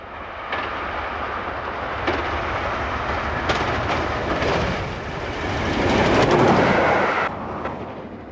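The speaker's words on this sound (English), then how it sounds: "West Country Class Pacific Taw Valley at 70 miles an hour on the Exeter-Salisbury line is an awe-inspiring sight" West Country Class Pacific steam locomotive Taw Valley racing at about 70 mph along the Exeter–Salisbury main line: a loud, sustained roar and rail clatter that swells near the end, with no voices.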